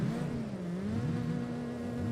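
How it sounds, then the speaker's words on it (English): Alfa Romeo and Abarth 500 cars racing through docks in the Solar Crown driving game, a continuous droning engine with pitch rising and falling as the cars accelerate, steady and moderately loud. "Here we go then, Alfa Romeos and Abarth 500s racing through the docks"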